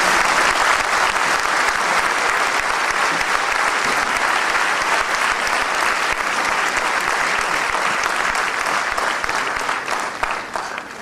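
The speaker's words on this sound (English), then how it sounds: "can we please have an even louder round of applause for that spectacular performance?" An audience gives sustained, dense applause after a spectacular stage performance, a steady roar of many hands that holds loud throughout and only starts to thin at the very end.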